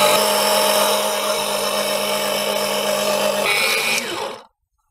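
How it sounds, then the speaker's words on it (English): A steady, loud suction whine runs continuously while dirty brake fluid is drawn from the brake reservoir of a BMW E46 330Ci, the pitch shifting slightly near the end before cutting off abruptly into silence. "Sucking the brake fluid from the reservoir because it's filthy as f***."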